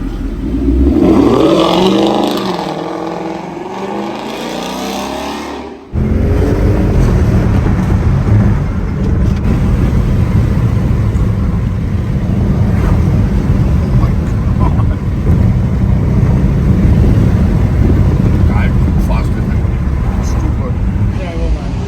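V8-swapped Mercedes 190E revving hard and going sideways in a drift, a loud continuous engine roar with wind buffeting, speech around it and a brief dropout partway through.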